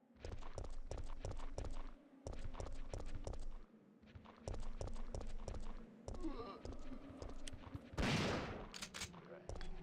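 Gunfire from the video game Resident Evil 3: Nemesis, heard as rapid repeated sharp shots in bursts over a steady low game hum, with one louder noisy blast near the end.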